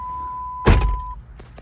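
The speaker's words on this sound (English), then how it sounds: "Obviously you gotta close the door." A Jeep door with a 4.0 engine setting slams shut with one loud, close thunk, leaving a brief rattle and a few faint knocks afterward over a steady tone.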